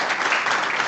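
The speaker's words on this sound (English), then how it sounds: "let's have another round of applause for both of our speakers." A tech meetup crowd claps for two programming speakers, a brief burst of steady, close applause from a small room.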